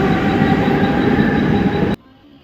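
A train in Mumbai rolls along with a loud, steady rumble and clatter heard from inside, running continuously before cutting off abruptly near the end.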